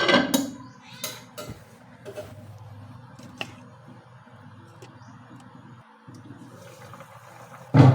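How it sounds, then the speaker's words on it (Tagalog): A metal lid clatters onto a pot of simmering dinengdeng vegetables with string beans, sharp clanks at the start and scattered knocks after, over a low bubbling simmer, with a final loud clank at the end. "Tatakpan ko ito para bahagya siyang maluto."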